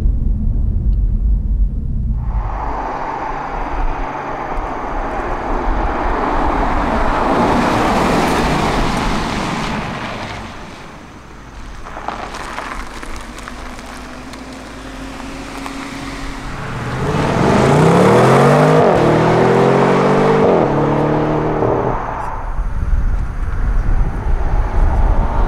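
Passing cars roar by outside, engines swelling loud then receding, with a rising, revving 2018 BMW M550i engine note heard from outside in the second half; no talking.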